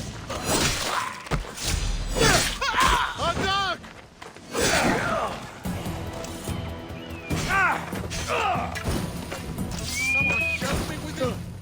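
Horses of mounted guards in Assassin's Creed Odyssey whinny and neigh repeatedly, close and loud, mixed with crashing, thudding combat impacts.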